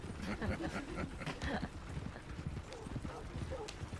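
Steady, rapid hoofbeats clip-clop over gravelly ground, a horse trotting close by in the video game Red Dead Redemption 2 while people talk over the sound.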